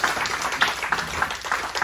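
Church congregation clapping in rhythm while acclaiming God during a French-language service, a fairly faint, steady beat of handclaps about every third of a second with some background voices.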